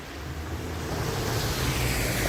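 River water in Kentau, Kazakhstan flows in a continuous, rushing wash, heavy with wind buffeting on the microphone, steady and loud throughout with no talking.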